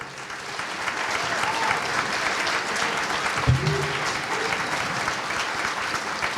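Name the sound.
audience applauding at gala event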